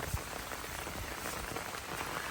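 Steady rain falls on the Appalachian Trail, a continuous dense patter of drops on leaves and gear, close and even throughout with no voices.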